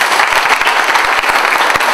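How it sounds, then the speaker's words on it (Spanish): A crowd at a religious procession for San Roque González de Santa Cruz breaks into loud, dense applause, many hands clapping close and continuously. "Un aplauso."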